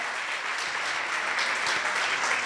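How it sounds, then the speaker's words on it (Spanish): An audience in a church gathering claps in a dense, even burst of applause that holds steady for a couple of seconds, with no voice rising above it. "vamos a darle un aplauso a los hermanos que hablan náhuatl."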